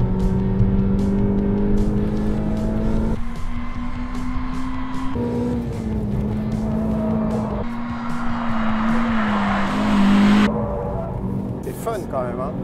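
A car drifts with its wheels sliding on a partly wet surface, its engine droning and revving hard as it builds speed. People talk over the steady engine noise throughout.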